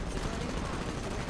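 Gunfire in the sci-fi shooter Titanfall, a dense, continuous barrage of shots in a brief burst.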